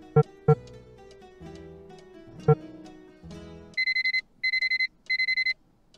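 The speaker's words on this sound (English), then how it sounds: "Let's set the alarm." A ringing alarm clock in a Nancy Drew mystery game: three bursts of rapid electronic beeping come after some quieter in-game knocks and thumps, and there is no speech.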